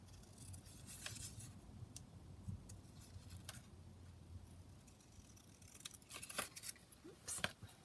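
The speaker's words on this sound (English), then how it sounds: "Just cut those out." Scissors snipping through paper to cut out book images for a craft journal, a series of quiet, close, irregular clips and rustles over a faint background.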